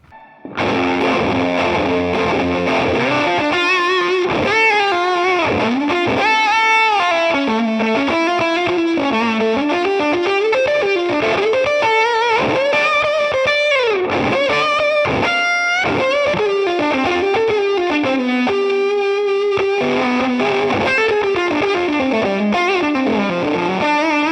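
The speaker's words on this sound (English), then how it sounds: "Let's finish off with some fuzzy tones." Dale Wilson '72 Thinline Telecaster electric guitar played through fuzz, thick distorted tones with sustained notes and bends, loud and continuous, playing alone without any voice.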